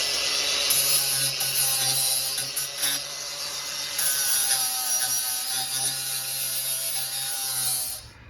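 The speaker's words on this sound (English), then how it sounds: "I'm going to put a cleaning up disc on." An angle grinder fitted with a cleaning disc scours metal on a Kia Venga repair with a loud, continuous high-pitched whine and rasping drone, dipping briefly midway, then spinning down at the end.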